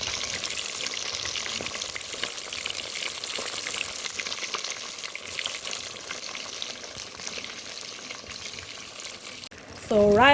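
Seasoned fish frying in hot oil in a pot, a steady close crackling sizzle that continues throughout, with a brief sharper clatter near the end.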